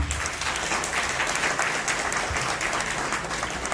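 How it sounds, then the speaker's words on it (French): Steady, moderately loud applause from the audience at a political party congress in Guinea, a continuous crowd of hands clapping with no talk over it. "Je voudrais qu'on applaudisse tous les partis politiques."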